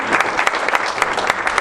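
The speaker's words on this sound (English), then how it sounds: "a round of applause for you again" Loud audience applause at a youth homelessness forum in York Region, a brief, dense burst of many hands clapping close and full throughout.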